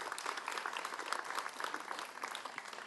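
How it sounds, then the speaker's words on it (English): Audience applause at a Calgary Ward 7 municipal election debate in Montgomery, a steady dense clapping from a crowd lasting the whole moment, fairly even in level with no talk over it. "Again, round of applause."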